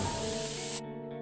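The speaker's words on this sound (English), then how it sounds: "I will pepper spray you back to the Stone Age." A pepper spray canister fires a single sharp hissing spray for just under a second, loud and close, then cuts off abruptly into quiet room tone.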